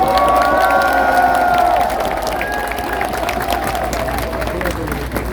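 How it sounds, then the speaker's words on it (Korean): Crowd applause and cheering at an outdoor presidential campaign rally in Pyeongtaek, loud clapping and shouts swelling at first, then easing to a steadier, softer roar of applause with scattered voices. "여러분 박수 한번 크게 보내주세요"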